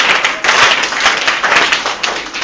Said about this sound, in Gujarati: આપણે એમને તાળીઓથી વધાવીશું